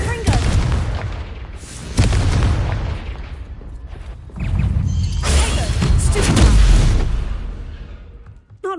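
A Confringo spell explosion in the game Hogwarts Legacy, heard as loud, booming bursts over a steady game background, with the strongest blast coming late in the sequence.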